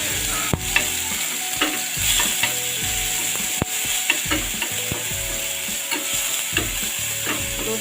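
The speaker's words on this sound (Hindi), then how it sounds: "दोस्तों ऑयल गर्म हो गया है, मैं इसमें इस प्याज को छोड़ देती हूँ।" Ground onion hits hot oil and sizzles steadily and close, with frequent scrapes and clinks of a spoon stirring against the pan.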